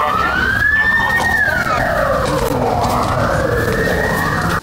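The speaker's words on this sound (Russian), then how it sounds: "В это же время во двор уже въезжает машина пожарных" A fire engine siren wails loudly and continuously, its pitch sweeping up and down as the engine drives into a courtyard during a fire drill at a Volgograd children's home, with traffic rumble underneath.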